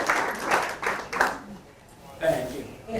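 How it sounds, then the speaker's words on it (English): Applause at a 108th birthday party for Vera, with short bursts of clapping from a small gathering that rise and fade over a few seconds and blend with nearby voices. "So an applause to you, Elise and Dennis."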